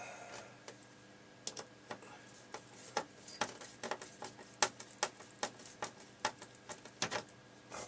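Small metal clicks and ticks come in an irregular run of sharp, quiet taps as a screw is driven into an Amstrad CPC 464 home computer during restoration.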